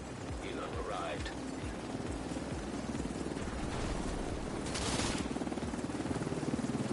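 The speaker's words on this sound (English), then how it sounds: "Helo arrived." A helicopter arrives in the video game The Division 2, its rotor thumping in a fast, steady chop that stays loud and close throughout, with a whooshing swell near the end.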